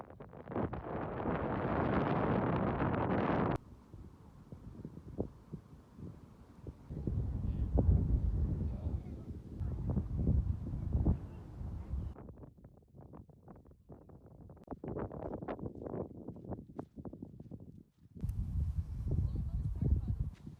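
Strong gusts buffet the microphone on the windy Arthur's Seat hilltop in Edinburgh, coming in loud roaring bursts separated by calmer stretches, with a person talking in between.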